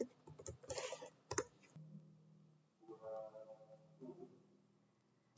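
Quick bursts of typing on a computer keyboard, two short clusters of clicks near the start, followed by quiet and soft indistinct sound.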